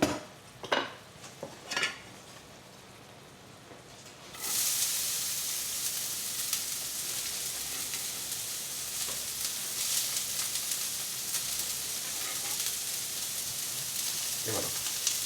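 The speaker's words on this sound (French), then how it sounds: "on va faire revenir donc les oignons." Onions hit hot oil in a pan: after a few light clatters of utensils, a loud, bright sizzle bursts in and continues steadily, with occasional stirring sounds.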